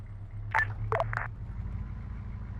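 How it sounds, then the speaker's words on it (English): Radio chatter from a car radio inside an Arma 3 vehicle, heard as a few short electronic chirps and tones in quick succession over a steady low engine rumble. "Oh god, the fucking car radio."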